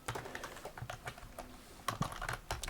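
Fingers type steadily on a computer keyboard, with a continuous close patter of key presses and a few slightly louder strikes, heard alone without speech.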